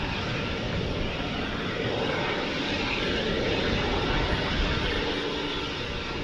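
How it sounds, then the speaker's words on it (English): An MD-11 jet airliner takes off at Dallas/Fort Worth airport at night. Its engines make a loud, steady, broadband roar that keeps up across the whole stretch, with no talking over it. "Another MD-11 headed off to Louisville and the Worldport."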